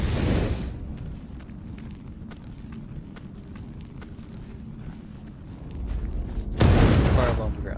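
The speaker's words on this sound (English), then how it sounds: "Fireball on the ground for no reason whatsoever" Fireball spell from Lichdom: Battlemage bursting with a loud whooshing roar at the start, then a low rumbling burn that swells into a second sharp, loud blast near the end.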